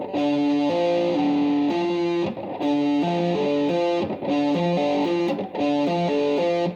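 Distorted electric guitar playing a repeating fluid lick of quickly connected notes, in three similar phrases with brief gaps between them.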